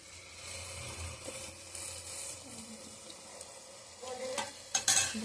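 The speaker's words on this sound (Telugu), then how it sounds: "మిక్స్ చేసుకోవాలి ఇట్లా మిక్స్ చేసుకుని" Carrot and beetroot halwa being stirred in a pan after milk is added, a soft, steady scraping and bubbling sizzle that carries on throughout, with a few louder clinks near the end.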